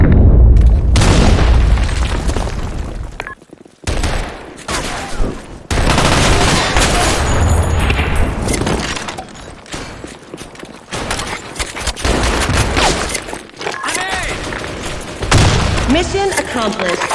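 Grenade blasts and rapid gunfire in the shooter game Blackshot, loud and nearly continuous booms and bursts of automatic fire with brief gaps, while game voice lines call out over the action.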